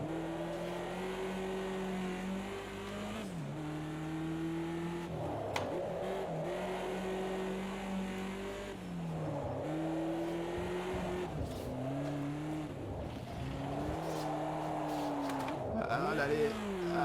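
BMW 2002 Turbo race car lapping the Ruapuna circuit, its engine droning steadily with repeated rises and drops in pitch through gear changes and corners, heard from inside the car alongside occasional faint speech.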